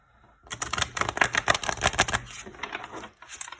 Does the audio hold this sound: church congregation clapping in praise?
no